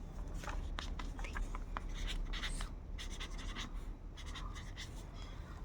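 A pen scratching steadily across small paper slips as names are written on their backs, a soft, rapid series of scribbling strokes close by, continuing throughout at a low level with no speech.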